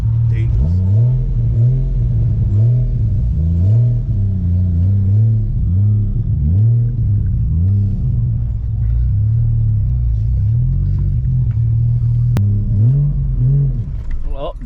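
A BMW M340i with a manual gearbox lugs and shudders at low revs, its engine surging and dipping in repeated rumbling waves before a brief silence and a restart, heard close inside the car.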